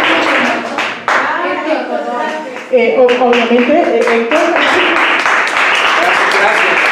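An audience claps at a conference on Palestine, with scattered applause mixed under a speaker's voice near the microphone.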